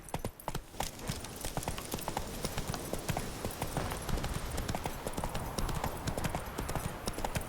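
In The Witcher 3: Hearts of Stone, a horse gallops with rapid, close, rhythmic hoofbeats that drum continuously over low game background noise.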